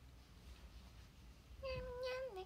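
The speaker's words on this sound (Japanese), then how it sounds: "猫だよねでもこれ。" A cat gives one drawn-out, wavering meow near the end, rising out of a quiet indoor room with a low steady background hum and no voices.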